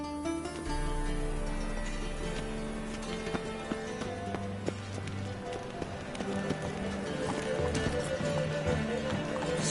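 Roach, a horse in The Witcher 3: Wild Hunt, gallops with a steady, quick clip-clop of hooves under game music, fairly close and moderate in level, with some voices in the background.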